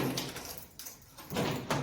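A repaired steel door swings shut and locks smoothly, giving soft whooshing and latch sounds in a short sequence with no talking.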